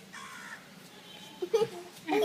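Crows caw overhead in a few harsh, separate calls that come closer and louder toward the end, over quiet background murmur.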